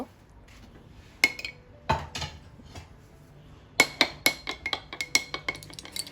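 A spoon stirs a yogurt and honey dressing in a bowl, giving scattered clinks against the dish that turn into a quick run of rhythmic taps, close and fairly quiet.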